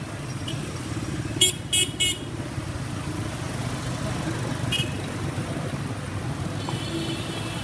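Street traffic at a Hanoi intersection makes a constant low hum of cars and motorcycle engines. Several short, sharp horn toots cut through, a cluster early on and another a few seconds later.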